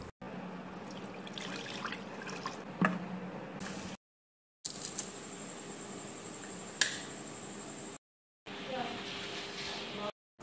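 Rice is being washed in water for chicken biryani, giving a steady close wash of sloshing, trickling water with small clicks and splashes, broken by a couple of brief silent cuts.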